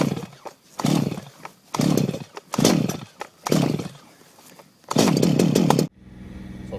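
A car engine fitted with a fast-idle device during a carbon-cleaning test roars in a series of loud, rhythmic bursts, then settles into a steadier, quieter run.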